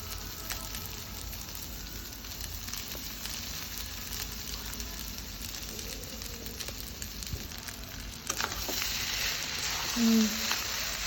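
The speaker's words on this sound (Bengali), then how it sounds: "ঠান্ডা ভাতগুলো কড়াইতে দিয়ে দিলাম।" Cold cooked rice frying in a hot kadai gives a steady, close sizzle with soft crackle. It grows louder and busier toward the end, and no one speaks.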